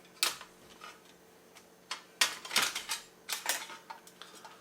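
A compact Firebox Nano camp stove being unfolded, with several sharp metallic clicks and clanks as its small grate drops into place, close up and spaced out, with no voices.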